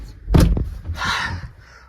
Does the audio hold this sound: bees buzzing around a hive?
no